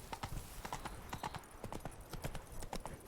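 Hooves of Roach, Geralt's horse in The Witcher 3, clip-clopping in a steady walking rhythm, close and clear over a low game ambience.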